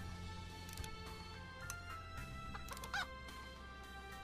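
A chicken in a video game clucks steadily over a droning musical background, with a short squawk near the end, fairly close and continuous.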